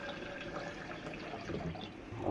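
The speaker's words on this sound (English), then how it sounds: "This is tap water through the filter." Tap water running steadily through a filter into a glass, a continuous soft splashing wash of flow with no pauses.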